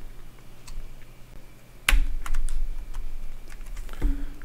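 Computer keyboard shortcuts pressed during programming, a few sharp key clicks and clacks with one louder hit near the middle over a quiet room background.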